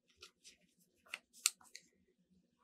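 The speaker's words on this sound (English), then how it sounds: "You can cut it out of another color of paper" Scissors snip out a paper leaf cut from colored paper at a craft table, giving a few short, quiet crisp snips spaced irregularly over a couple of seconds.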